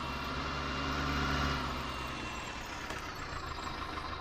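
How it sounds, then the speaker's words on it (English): A Fendt tractor engine in Farming Simulator 19 idles with a steady, low, continuous rumble, heard close and alone. "It's a nice sounding tractor."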